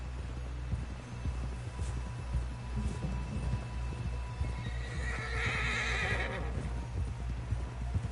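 Horse hooves in the video game Red Dead Redemption 2 clip-clop in a steady rhythm on hard ground, with a horse's whinny rising briefly midway, no talking.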